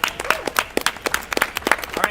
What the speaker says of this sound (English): Get a round of applause for Graham